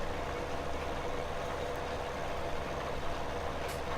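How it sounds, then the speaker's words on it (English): Low, steady engine drone of a small tractor labouring uphill in Farming Simulator 17, a continuous even rumble with no talk over it. "This is quite a nice little tractor."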